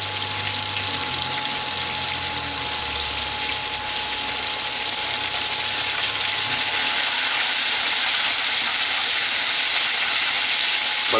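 Chicken fried steak frying in a pan until crisp, a loud steady sizzle and hiss that holds evenly throughout with a faint low hum underneath and no talking.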